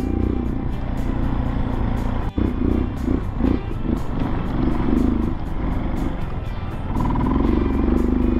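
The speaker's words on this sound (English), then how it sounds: "We'll take it easy here for a minute and let the bike warm up a little bit." A dirt bike idles while warming up at a dry, sandy riding spot, with a steady low engine rumble and faint repeated ticking, close and continuous with no speech.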